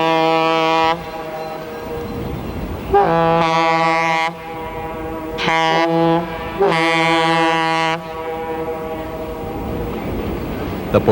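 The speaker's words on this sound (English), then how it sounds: "our train continues on for another trip around the mile-long loop track" A vintage diesel train on a mile-long loop track at the Portola railroad museum sounds several loud, harmonic horn blasts of varying length over a low running rumble.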